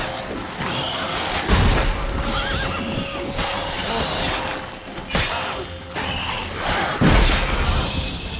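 Roach the horse in the video game Witcher 3, several loud whinnies and snorts amid clip-clopping hooves and sharp crashing impacts from the game.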